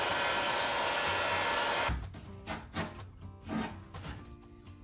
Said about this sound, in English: I'm just gonna use a heat gun, warm that up, and scrape that off